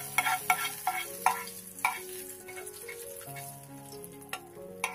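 Hot oil tempering poured into cooked garlic spinach sizzles and crackles steadily, with stirring scrapes and a few sharp clinks of a spoon against the pan; no voices.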